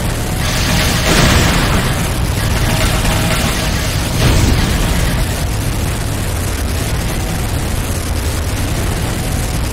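A structure blows up in Command & Conquer: Renegade with heavy, loud booming blasts, two stronger bursts over a continuous roaring rumble.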